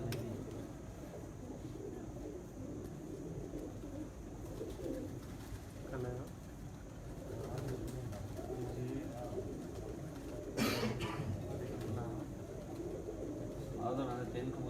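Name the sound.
pigeons landing, cooing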